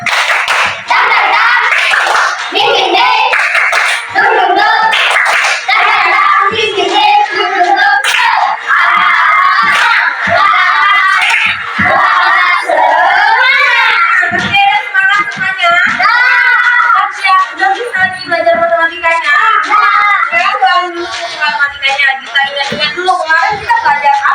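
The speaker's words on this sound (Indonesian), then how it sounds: "Tepuk semangat." Schoolchildren in a classroom do a rhythmic spirit clap before a maths lesson, loud patterned hand claps mixed with children's chanting voices and shouts that run continuously throughout.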